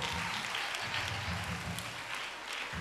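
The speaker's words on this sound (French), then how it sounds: "on va acclamer le tableau" Sustained applause from a crowd at a closing Mass, acclaiming a painting offered to diocesan partners, steady and fairly distant with dense overlapping claps throughout.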